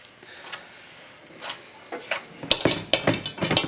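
A whisk mixing lemon doughnut batter in a bowl, soft scattered strokes at first, then quick rhythmic clinking taps against the bowl growing louder and faster.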